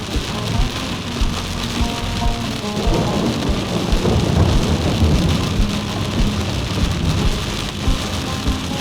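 Heavy rain falls steadily on a village in Bahla, Oman, a dense, loud, continuous patter on surfaces. Low rumbles of thunder roll underneath throughout.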